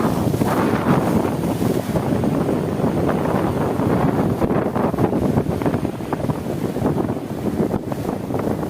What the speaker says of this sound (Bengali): খুব বড় বড় ঢেউ আসছে কিন্তু বন্ধুরা।